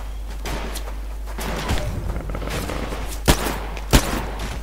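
Gunfire from the video game Titanfall, played on its training grounds, rings out in a few sharp, loud reports, two of them standing out near the end over a low, steady background hum.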